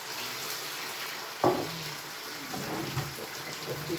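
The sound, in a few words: pouring water into pot of cooking meat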